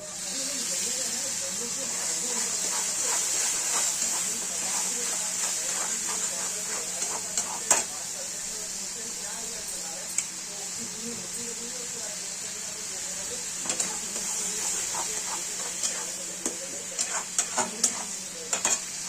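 Tomato paste sizzles and hisses as it fries in a ginger-garlic masala for egg bhurji, with a steady bright frying hiss, scattered stirring clicks and taps, and quiet talk now and then.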